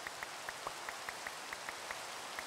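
Rain falling in the Minecraft video game, heard as a faint, steady hiss with soft, evenly spaced droplet ticks, with no voices.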